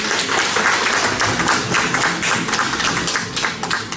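A church congregation claps for piano class graduates in a loud, continuous round of applause with rapid overlapping hand claps throughout.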